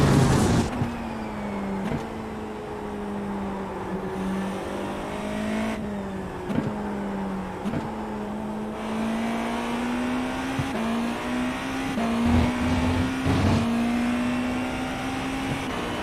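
Sustained engine note of an IMSA GTP prototype race car in the iRacing sim at Silverstone, steady and loud with shifts in pitch as the car accelerates through gears and lifts, heard alone without talk.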